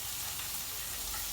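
Fish frying in a pan gives a steady, close sizzle and crackle of hot oil, even and unbroken, with no voices.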